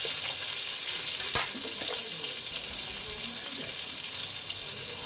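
Eggplant pieces frying in a pan with salt and turmeric give a steady, close sizzle, with one sharp clatter of a utensil partway through and no talking.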